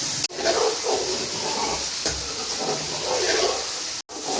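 Tomatoes fry in a pan for tinda gosht, a steady close hiss and sizzle with a couple of brief sharp breaks in the sound.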